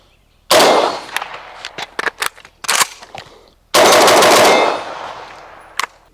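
A rifle fires in a competition-style shooting drill, a loud rapid burst followed by scattered single shots with metallic clatter of a reload, then another fast burst and a final lone shot.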